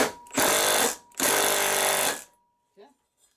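A socket ratchet tightens a bearing housing on a garden tractor, giving two loud bursts of rapid clicking close by with a short pause between them, then a faint knock as it stops.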